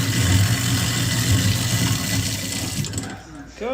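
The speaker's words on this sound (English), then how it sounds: "Gotta feed it a little bit of water. That makes the disposal happy." Water poured into a kitchen sink's garbage disposal after a banana, a loud, close, steady rushing gurgle that stops abruptly near the end, followed by faint clinks.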